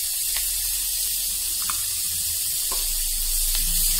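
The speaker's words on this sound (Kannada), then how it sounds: "ಈರುಳ್ಳಿ ಸ್ವಲ್ಪ ಫ್ರೈ ಆಗಲಿ" Onions frying in a pan with a little salt for a senna leaf sabji, a steady close hiss of sizzling oil with faint pops and stirring scrapes, no talking.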